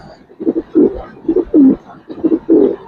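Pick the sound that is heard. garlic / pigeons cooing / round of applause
pigeons cooing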